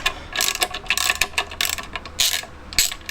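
Ratchet clicking in quick bursts while loosening a flywheel bolt on a classic Fiat 500 during clutch replacement, several close, sharp runs of pawl clicks separated by brief pauses.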